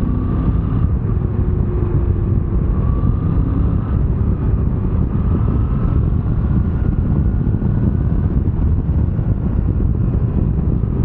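A Moto Guzzi V85TT motorcycle's engine runs at high revs while riding, a steady loud drone mixed with heavy wind rush, continuous and without speech.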